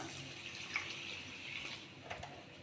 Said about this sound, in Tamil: ஒரு கப் தண்ணி சேர்த்துக்கலாம்